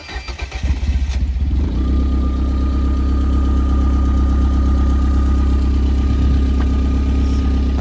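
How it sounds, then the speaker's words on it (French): A car engine cranks briefly with rapid pulses, catches and settles into a loud, steady idle held at high revs, close by and alone without talk. "on va démarrer pour vous faire entendre le son"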